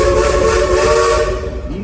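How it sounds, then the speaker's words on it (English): The Frisco steam train at the Silver Dollar City theme park blows its whistle in one loud, sustained, close hoot with a breathy hiss that holds steady for nearly two seconds before easing off. "Ichabod, what are you doing tooting the whistle like that?"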